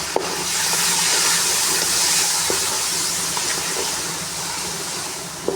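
Water poured into a hot pan of frying ginger-garlic masala gives off a loud, steady sizzling hiss that lasts the whole stretch, close up and without speech.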